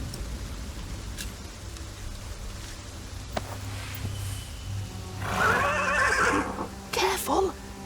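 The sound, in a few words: horse neighing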